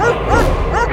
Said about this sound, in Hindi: ये फ्रीजर क्यों भौंक रहा है?